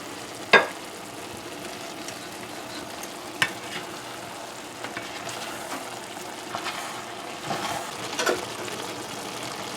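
Squash and chicken sizzling in a frying pan while being turned and stirred, with sharp scrapes of the spoon against the pan over a steady fry, close and alone.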